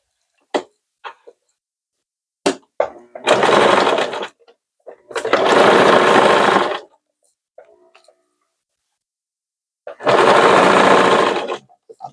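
Domestic sewing machine stitching a seam on palazzo trousers, running in three sustained bursts of about a second to two seconds each, close and loud, separated by quiet pauses with small clicks and handling noises.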